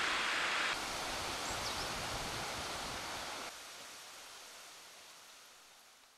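A mountain waterfall framed by autumn foliage gives a steady, full roar of falling water, dense and continuous throughout, with abrupt level shifts where the sound is cut, and no voices.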